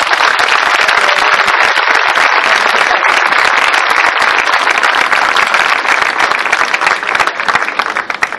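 Audience applause for Sister Romana at a performance of the musical about Mother Teresa, a dense, steady wash of many clapping hands, loud and close, holding throughout and thinning slightly at the end.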